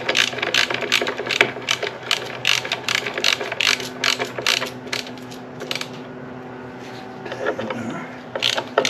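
A part being screwed in and tightened by hand on an Opel engine, with rapid repeated ratchet-like metallic clicks close by and a short pause before a few more clicks.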